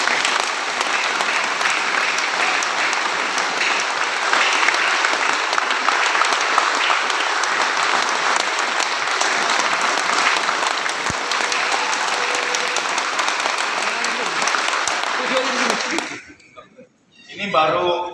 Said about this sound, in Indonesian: Ya, tepuk tangannya yang keras ya